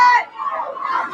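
Energetic crowd outside a Trump rally in front of the Target Center at night, a brief burst of distant shouting and cheering voices blending into a murmur of chatter.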